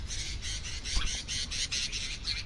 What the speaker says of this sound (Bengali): এর সব সাথীরা সব চলে এসেছে, এসে ডাকাডাকি করতেছে একে মুক্ত করার জন্য